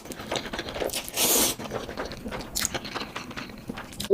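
Close-up slurping and chewing of a mix of Shin Ramyun and Chapagetti noodles, with one strong slurp followed by softer, irregular wet mouth sounds and crunches.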